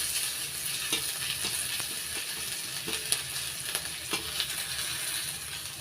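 Crushed garlic and chopped onion frying together in a pan for jute-leaf greens, giving a soft, continuous sizzle with a few faint scrapes and taps of a stirring spoon, heard quietly and without voices.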